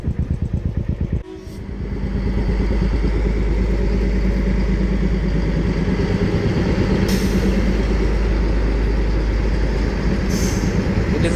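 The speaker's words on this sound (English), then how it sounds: "And train is coming, तो चलो आपके लिए मैं माथेरान मिनी ट्रेन का फुटेज लेता हूँ।" The Matheran mini narrow-gauge train rumbles past close by, a loud steady roar of wheels and engine that builds after a brief rhythmic clatter and holds for the rest of the passage, with faint squeals overhead.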